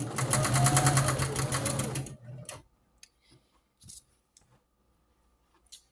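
A sewing machine stitches a rag quilt in a loud, fast run for about two seconds, then stops, leaving only faint handling clicks and rustles.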